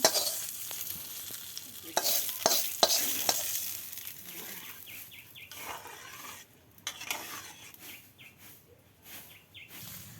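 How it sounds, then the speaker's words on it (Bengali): Jackfruit seeds fry in oil in a pan with a steady sizzle, punctuated by loud, irregular scrapes and knocks of stirring, while birds chirp faintly in the background. "কাঁঠালের বিচির ভর্তা করার জন্য আম্মু এখন বিচিগুলো ভেজে নিচ্ছে।"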